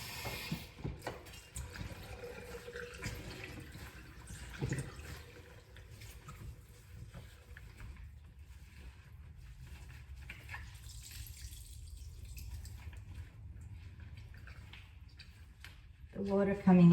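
Tap water runs steadily while felted wool yarn for a knitted blanket is rinsed in a sink, a soft, continuous splashing wash that grows louder near the end.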